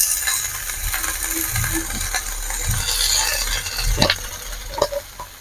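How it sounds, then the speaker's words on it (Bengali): Cabbage frying with spices in a pan, a steady soft sizzle under a low hum, with a few stirring scrapes and metallic clinks toward the end. "এই বাঁধাকপিটা একবার দিয়ে দেবো এর মধ্যে দিয়ে সব একসাথে ভেজে নেব"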